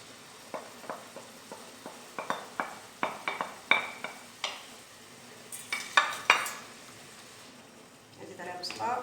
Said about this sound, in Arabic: غادي نزيد عليها البصله دابا.